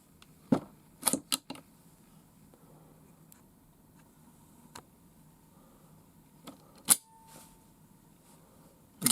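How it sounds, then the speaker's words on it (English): Bolt of a Marlin Model 60 rifle being cycled freely by hand during repair, giving scattered sharp metallic clicks and clacks with quiet gaps between them, close and fairly faint. "can see how that bolt's traveling freely, just like it should"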